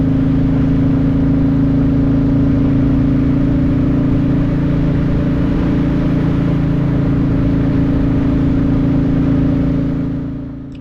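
A Royal Enfield Classic 350 motorcycle is ridden on a winter day in Scotland. Its engine gives a steady, loud, close drone with a firm low hum that holds throughout and eases off at the end.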